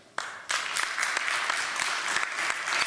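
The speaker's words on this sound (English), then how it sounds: "go ahead and clap now" A conference audience claps to vote no on whether Airbnb counts as a proper hospitality company, the applause starting in two quick waves and then continuing as a steady, fairly loud wash of many hands.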